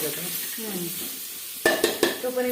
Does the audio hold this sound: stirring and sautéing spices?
yes